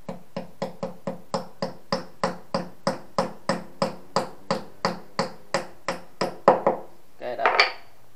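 A hammer drives plastic wall anchors into a wall while an outdoor air conditioner unit is being installed, giving a steady series of about twenty sharp, evenly spaced strikes up close, then a brief shuffle of handling noise at the end.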